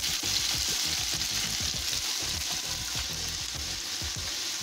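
Chopped onion fries in oil for a Venezuelan chicken sancocho, giving a close, steady sizzle with a rhythmic series of stirring scrapes running underneath.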